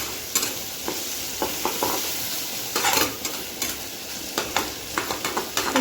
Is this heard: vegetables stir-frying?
yes